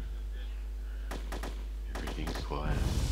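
Satchel charges set off in the DayZ video game, heard as a cluster of sharp, heavy thumps and bangs in quick succession over constant game background noise, ending in a louder, rougher burst.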